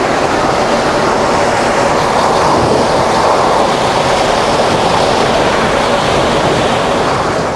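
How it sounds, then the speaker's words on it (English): Peppercorn Pacific steam locomotive Tornado running at high speed on a mainline near Darlington, heard as a steady, loud, broadband roar of rushing wheels and air with a faint rhythmic clatter underneath, continuous throughout. "This is the fastest a Peppercorn Pacific has run since the end of steam."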